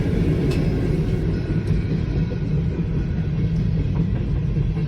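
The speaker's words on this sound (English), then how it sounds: "Next up we see a BPRR train." A BPRR freight train rolls past close by in a loud, continuous low rumble. A faint clickety-clack of wheels on the rails runs steadily through it, with no talking.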